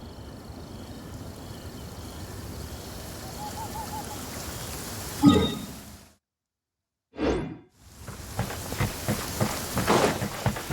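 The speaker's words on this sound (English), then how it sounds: "This heavy rain must be quite an inconvenience for you." Heavy rain in a video game hisses steadily as a dense wash, broken by a whoosh, a sudden stretch of silence and a brief swell before the downpour returns with scattered droplet patters.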